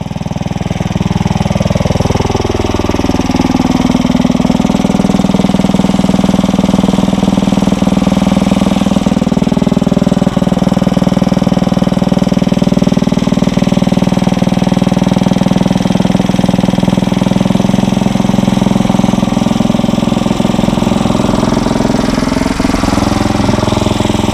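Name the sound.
Briggs and Stratton 900 series lawn mower engine running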